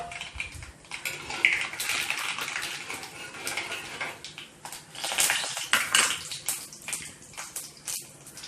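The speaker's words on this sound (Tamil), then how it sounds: "இப்போ கடுகு உளுத்தம் பருப்பு வந்து நல்லா பொரிஞ்சிச்சு." Mustard seeds and urad dal crackle and spit in hot oil in a pan while bitter gourd fry is being made, a dense, busy sizzle with sharp pops and bursts throughout, fairly close and steady with no talking.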